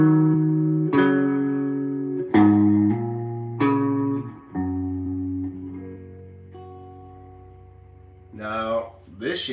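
Slow guitar chords are struck one at a time, each left ringing and fading before the next, with a brief scrape of fingers near the end.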